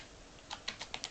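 Short burst of typing on a computer keyboard, about five quick, light key clicks in an uneven rhythm, close and fairly quiet.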